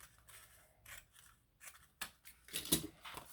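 Close, quiet scissors trim the end off a paper card in a series of short crisp cuts, the last few louder and more crunchy.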